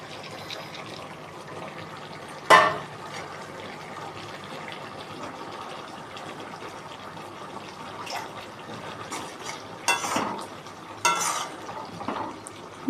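Fried shrimp goes into a wok with potatoes and pointed gourd in spiced gravy, heard as a faint simmering hiss with a sharp clank near the start and scattered stirring scrapes later.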